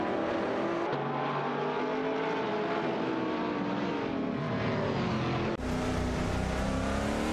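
Racing cars in a video game race, including an Infiniti G35 GT2 and a Jaguar XKR GT3, roar continuously at high revs with engine notes rising and shifting as gears change, loud and steady throughout.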